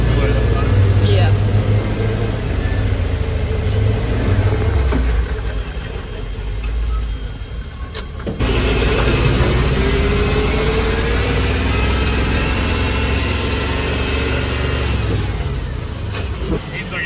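A Unimog 404 engine idles loud and close with a steady rumble and an uneven, misfiring beat, a voice talking over it at times.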